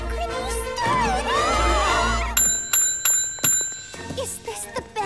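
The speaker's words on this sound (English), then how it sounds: "Is this the bell from her video?" A cartoon bell rings three times in the second half, each strike clear and loud with a long ringing tail, following a stretch of background music.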